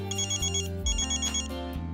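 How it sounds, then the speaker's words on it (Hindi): Electronic telephone ringtone playing a repeating melodic pattern of bright beeping tones, loud and clear, alone with no speech. "किसका फोन है?"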